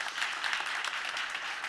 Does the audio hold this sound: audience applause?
yes